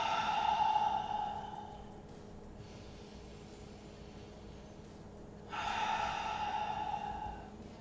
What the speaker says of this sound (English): just take a nice deep breath